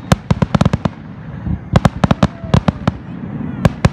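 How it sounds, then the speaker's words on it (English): A fireworks show over the river at the Madison Regatta, a loud, close barrage of sharp cracking bursts in quick irregular clusters, each burst trailed by an echo across the water. "Madison Regatta Fireworks Show."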